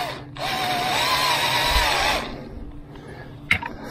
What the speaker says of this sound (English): So this is a little step drill. All you want to do is drill a hole.